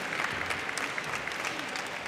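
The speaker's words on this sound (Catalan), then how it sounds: "un aplaudiment una miqueta més enèrgic" Applause from the audience at a university graduation ceremony fills the hall as a steady, dense patter of many hands clapping, with no pauses throughout.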